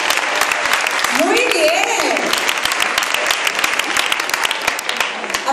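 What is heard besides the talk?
festival audience applause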